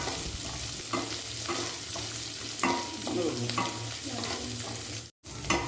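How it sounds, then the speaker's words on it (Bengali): Chopped onion and green chilli fry in a pan over a low-to-medium flame, giving a steady close sizzle broken by repeated scraping stirs, with a brief dropout near the end. "এগুলো সব কিছু দেওয়ার পর ভালো করে কিছুক্ষণ ধরে লো টু মিডিয়াম ফ্লেমে ভেজে নিচ্ছি।"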